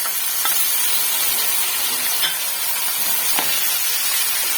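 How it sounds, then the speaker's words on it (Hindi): Tomatoes and spices fry in a pan for vegetable pulao, a close, steady sizzle with a few soft spoon scrapes while being stirred, and no talking. "और इसे अच्छी तरह से हम भून लेंगे, टमाटरों के सॉफ्ट होने तक हम इसे भून लेंगे।"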